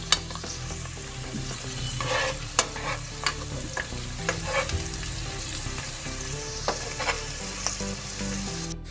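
Onions frying with mixed garam masala for a vegetable pulao, stirred in the pan: a steady loud sizzle broken by repeated spoon scrapes and knocks against the metal, close by, no one speaking.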